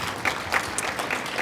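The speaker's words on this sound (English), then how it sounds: "So let's give them a round of applause." Applause from the crowd at a conference on educational equity, a dense and even spatter of many hands clapping at moderate distance.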